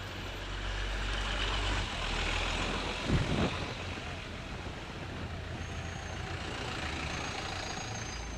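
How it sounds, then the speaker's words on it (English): Steady low engine rumble of a truck idling in traffic in Brunei, with a brief hiss around the middle and continuous road noise throughout. "Just solid traffic all the way."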